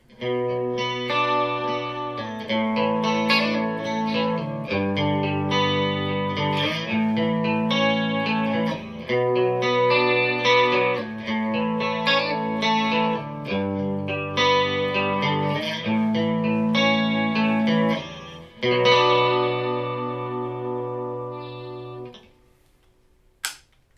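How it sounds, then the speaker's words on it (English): Clean split-coil tone from an ESP EC-256 electric guitar playing chords and melodic runs, bright and ringing with a slight chorus shimmer, steady for most of the passage before a final strummed chord fades out. "we'll give you a split coil tone sample with this guitar"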